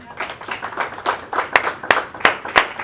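Scattered clapping from a small church congregation after the preacher calls for applause for Christ, with uneven, sparse claps that build slightly toward the end and never become a full ovation.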